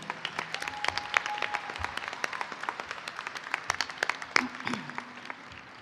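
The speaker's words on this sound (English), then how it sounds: "Please give this amazing staff a heartfelt round of applause." High school graduation ceremony audience applauding the school staff, a moderate spread of scattered hand claps heard from a distance, steady throughout.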